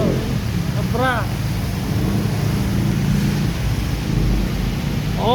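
Heavy rain pouring down in a steady loud hiss and rumble, with a few short whistling chirps over the downpour.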